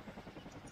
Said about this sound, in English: just focus on sending the helicopter that way for the supply